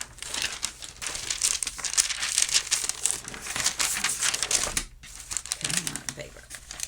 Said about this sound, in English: I'm going to have to flip the page.